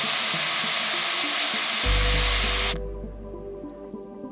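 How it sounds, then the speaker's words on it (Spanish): A blowtorch heats a metal boiler for soldering, making a loud steady roaring hiss that cuts off abruptly and leaves a low residual hum. "Lo calentamos con el soplete. Y soldamos el tapón y el tubo de la válvula."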